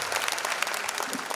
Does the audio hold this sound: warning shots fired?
no